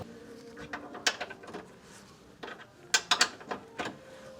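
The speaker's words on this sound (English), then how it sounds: "now we're gonna remove the other subframe bolts." A ratchet clicks in short irregular bursts while removing subframe bolts on a Toyota Yaris, with sharp metallic ticks and a few louder clusters near the end, no talking.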